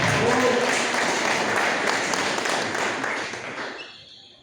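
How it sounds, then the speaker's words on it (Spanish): An audience applauds to welcome a speaker at a talk, a dense, steady wash of clapping that holds for several seconds and then fades out near the end. "Lo recibimos con un fuerte aplauso"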